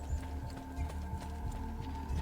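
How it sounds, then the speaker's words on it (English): Horse hooves clip-clopping at a steady trot in Assassin's Creed Brotherhood, rhythmic close thuds over a faint game hum, with no talking. "Oh yeah, the horse hasn't actually despawned."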